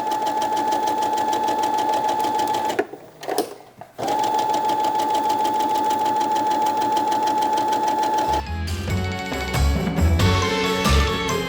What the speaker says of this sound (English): back stitch at the beginning and ending of your stitch line